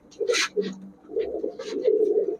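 Pakistani Babra pigeons in a pigeon shop give soft, close cooing calls in a few short bursts, with brief chirpy notes breaking in between.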